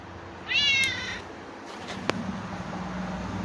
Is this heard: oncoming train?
no